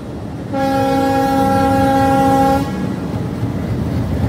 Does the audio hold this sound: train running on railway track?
yes